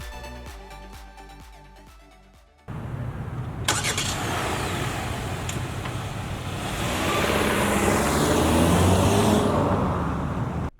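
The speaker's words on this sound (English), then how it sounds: "All right, let's see what driving the K4 is all about." A 2025 Kia K4 GT-Line sedan with the 1.6-liter turbo engine starts and pulls away, a sudden broad engine and road roar that builds steadily as it accelerates, heard from inside the car with no talk.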